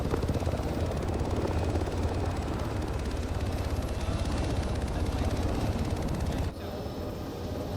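Continuous close helicopter rotor thump and turbine roar during a military training exercise, loud and steady, dropping slightly in level near the end.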